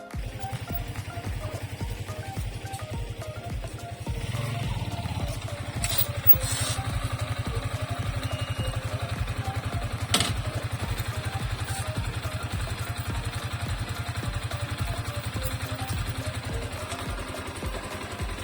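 The engine of a Yamaha Sniper 155 motorcycle keeps running after being started on a low battery. Its rapid, even putter idles steadily and close by with a faint mechanical clatter, and there is no talking.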